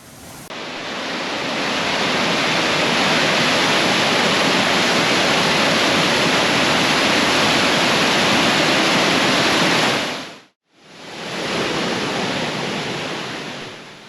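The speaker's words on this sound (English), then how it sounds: "It's a 29-foot waterfall that cascades over limbs and mosses." Steady, dense rush of a 29-foot waterfall cascading over limbs and mosses, roaring continuously and close, with a brief break near the end before the torrent resumes.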